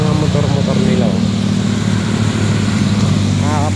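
Motorcycles, including a Yamaha R15, ride past at a weekend riders' stop on Marilaque, a loud steady engine drone filling the clip with a few higher revving sweeps, close by and continuous.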